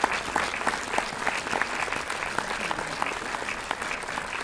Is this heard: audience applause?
yes